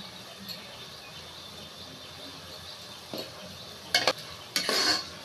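Chopped coriander and roasted cumin powder are stirred into a thick curry of bathua greens in a pan: a faint background hiss, then a few loud, scraping stirring strokes near the end, with no talking.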